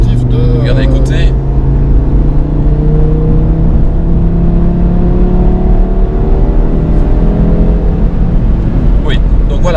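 A 2018 Audi RS3 Sportback engine revving from inside the cabin with no rear seat fitted, a loud sustained drone whose pitch slowly climbs and falls, with someone talking over it at the start.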